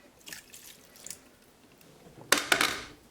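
Water splashes from a kitchen tap in two short bursts, a faint trickle early on and then a louder gush, as water is added to a pot of taco meat simmering on low.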